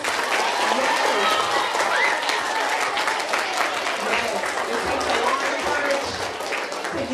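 Audience applauding young elementary-school poets at a school poetry slam, a dense, steady wash of clapping that fills the whole stretch, with cheers and voices mixed in.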